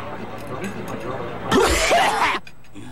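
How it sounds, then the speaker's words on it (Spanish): A single dry, harsh barking cough bursts out loud and close for about a second in a cough medicine commercial, cutting through a low background murmur before falling silent. "Tos de perro."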